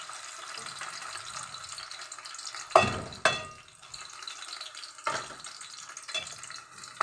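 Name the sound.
chopped onion frying in a pan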